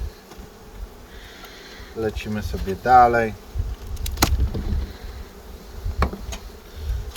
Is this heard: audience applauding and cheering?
no